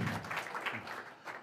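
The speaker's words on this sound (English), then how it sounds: "Let's give them a big round of applause for the facilities, pizza, beer" A meetup audience applauds its sponsors, a steady wash of clapping at moderate volume that swells briefly near the end.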